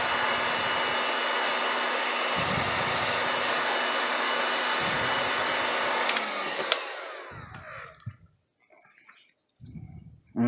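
A heat gun blows a steady, loud whooshing roar while warming a foam piece for a Batman utility belt, running for about six seconds before it cuts off and leaves quiet with brief faint bumps.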